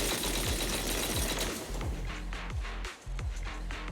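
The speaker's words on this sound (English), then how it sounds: "That was the sound of a heavy cannon?" Heavy cannon fire in the video game Zenless Zone Zero booms in a dense, rapid barrage of loud repeated blasts that pound continuously with barely a pause.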